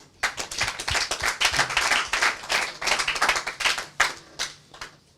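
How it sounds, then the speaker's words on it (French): A studio audience at a televised show claps continuously, a dense, steady burst of many hands that starts abruptly and holds at full strength, close and lively, with no talking over it. "Cher public, je vous prie de les applaudir."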